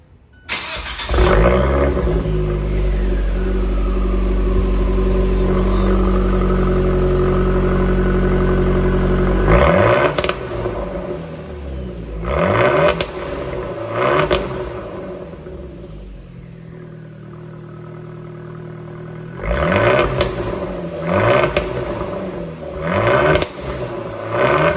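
A Fiat 124 Spider Abarth fitted with a Magnaflow straight-pipe exhaust in place of the resonator revs hard, first a long sustained roar, then a series of sharp blips and throttle rises with idle in between.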